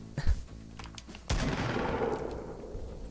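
Gunfire in the Fortnite video game: one sharp close shot with a burst of firing, followed by sustained rattling gunfire and noisy in-game ambience.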